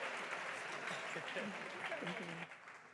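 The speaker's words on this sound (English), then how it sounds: "won't you please give my panelists a big round of applause as they take our seats" Audience at a public lecture applauding as panelists take their seats, a soft, distant wash of clapping with a voice talking over it before the applause thins near the end.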